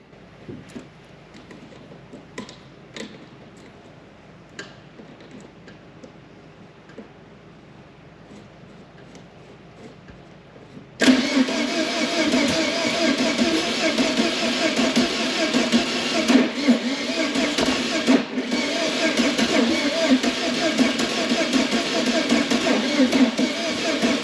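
A Ford Zetec engine in a MK1 Ford Fiesta is cranked but fails to start. Faint ticks and small clicks come first, then a sudden loud, continuous mechanical churning runs to the end.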